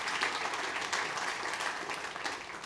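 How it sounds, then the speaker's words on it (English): A live audience applauds the people on stage after a presentation on utility data visualization, steady dense clapping filling the whole moment at moderate volume without talk. "So a round of applause for everyone up here."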